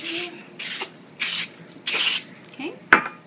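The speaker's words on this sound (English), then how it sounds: "We're going to put a little bit of Pam, spray them so they don't get sticky." Pam cooking spray hisses onto ceramic dishes in a kitchen in four short, even bursts, followed by a faint clink.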